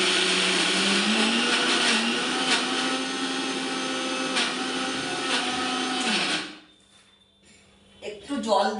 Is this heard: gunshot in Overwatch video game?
no